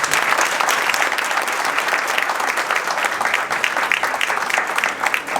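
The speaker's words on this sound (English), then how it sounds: "All of us will appreciate and we will applaud them." Steady, dense applause from an audience at a World Pharmacists' Day awards ceremony, a loud continuous wash of many clapping hands that holds evenly throughout.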